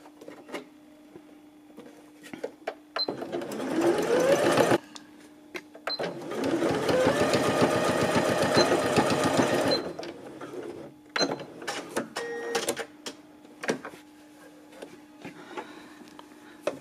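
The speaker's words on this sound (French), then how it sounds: "Donc là, j'ai cousu mes 4 cm." A sewing machine stitches a 4 cm seam on a sweatshirt, running in two steady mechanical bursts of about two and four seconds, with quieter handling and fabric movement between them.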